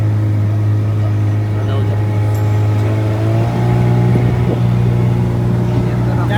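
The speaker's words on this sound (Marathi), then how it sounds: "इंजिन चालू आहे स्टेडी." A boat engine running steadily at sea off Malvan, a loud constant droning hum that rises slightly partway through, with people talking over it.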